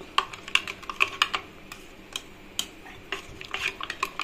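A spoon stirs ragi flour into cold water in a vessel, making quick, irregular clicks and taps against the sides in a steady, close-up rhythm.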